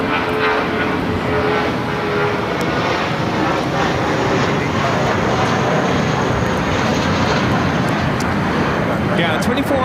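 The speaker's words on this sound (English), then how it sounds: "Also have MSC Air Cargo Flight 8650 heading to Hong Kong in a 777 freighter, going to be taken off here on the south side as well." A Boeing 777 freighter, a cargo flight bound for Hong Kong, takes off from the south side runways at LAX with a loud, steady jet roar that fills the whole stretch without a break.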